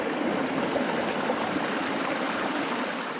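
A mountain stream in Tasmania's Arthur Ranges rushes steadily and close by while fresh drinking water is collected, its broad even flow filling the scene without any voices.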